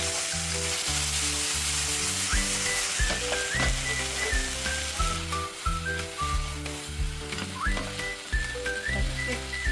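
Pork and green bell pepper stir-frying in a pan, tossed with chopsticks, sizzling loudly and steadily throughout, with a strong low rhythmic backing sound and some high whistling tones over it.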